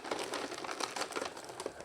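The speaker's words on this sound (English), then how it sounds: "I can kind of grab the outer plastic bag to get the rest" Soft, close crinkling of thin plastic, irregular rustles and crackles continuing for a couple of seconds at low volume.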